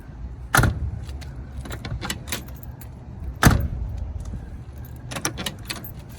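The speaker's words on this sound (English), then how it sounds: "Door closes nice and easy." The door of a 1967 Pontiac GTO swings shut with two sharp, fairly close thuds a few seconds apart, against quiet background noise and faint jingling.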